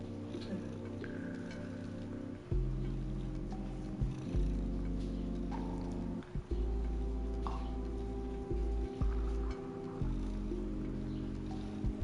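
A pet cat purring during a relaxed charity livestream, a steady low continuous rumble running close to the microphone with small breaks and shifts across the whole stretch.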